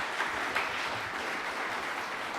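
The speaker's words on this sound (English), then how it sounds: "let's give them a round of applause" Audience applause in a hall after an author talk and book event with Jason Turbow, a steady dense clapping wash held at an even level with a brief louder swell, no voices over it.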